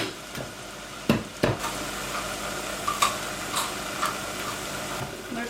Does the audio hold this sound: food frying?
yes